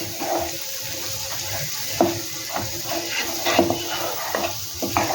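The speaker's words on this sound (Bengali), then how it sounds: "ফ্লেমটাকে লো রেখে এটাকে একটু কষিয়ে নেব ভালো করে" Rohu fish masala with sesame, onion, garlic and ginger is sautéed over a low flame, a gentle steady sizzle broken by regular spoon taps and stirring clicks close by.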